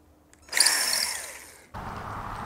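A power drill whines loudly into wood, drilling dowel holes, for about a second, its pitch sagging under load, then cuts off into a duller mechanical rumble.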